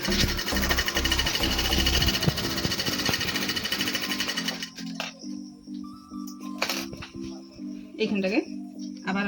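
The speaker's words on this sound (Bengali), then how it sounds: "এখানে চাপ সেলাই দিয়ে দিচ্ছি।" Sewing machine stitching fabric for a ruffled nightie, running fast and loud with a steady mechanical rattle, then slowing into shorter bursts and clicks as the fabric is turned.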